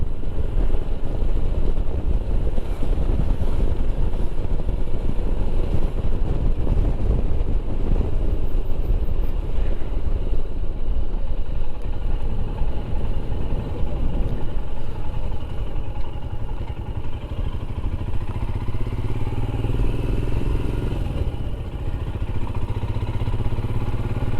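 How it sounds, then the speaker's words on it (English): Several motorcycles ride past on a road, their engines roaring loudly and continuously throughout with a steady rumble and no talking. "Definitely a few bikes out today."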